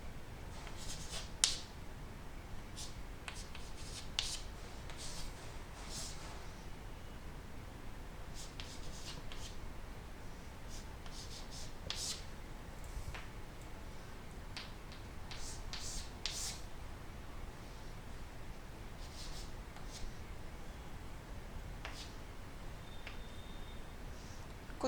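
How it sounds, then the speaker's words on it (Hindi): Marker or chalk scratching out points on a board during a coordinate geometry lesson, with quiet, irregular strokes and taps spread over a steady hiss, no talk. "कुछ पॉइंट्स मैं यहाँ लिख रही हूँ"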